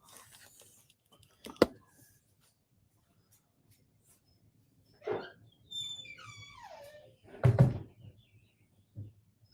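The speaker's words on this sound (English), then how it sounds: "I gotta block this door up, man. Otherwise, this thing's gonna creak all damn day." An indoor door is handled and wedged in place, with sharp knocks and thuds at intervals and a squeaky, creaking glide in between, heard up close against a quiet room.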